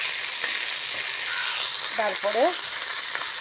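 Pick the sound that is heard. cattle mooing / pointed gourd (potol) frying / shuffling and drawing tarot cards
pointed gourd (potol) frying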